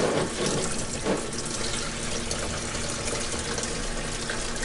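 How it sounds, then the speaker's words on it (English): Coolant draining from the engine of a 1965 Ford F100 pickup, a steady continuous splashing pour that stays close and even throughout, with no speech. "while the coolant is draining"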